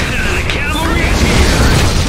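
Artillery booms and explosions rumble in Iron Harvest, a loud, dense low roar with rolling blasts and clanking battlefield mechanisms, while a voice calls out over the din.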